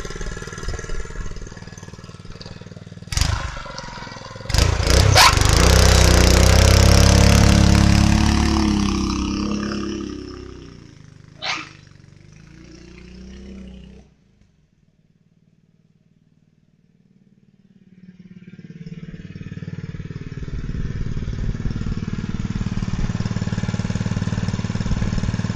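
Venom 4 hp trike engine with belt and clutch, starting with sharp pops then revving hard in a loud blast, dropping away to near silence before idling again steadily.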